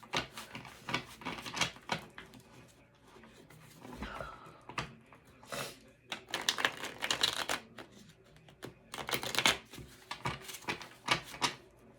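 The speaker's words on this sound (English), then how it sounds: "Let me get it out the cards. I'm gonna get some cards from" Tarot cards being drawn and shuffled by hand, close up, heard as repeated rustling riffles and flicks in uneven bursts with short quieter gaps between them.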